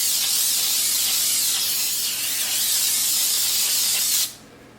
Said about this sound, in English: I'm just going to coat it good there with the Pam baking spray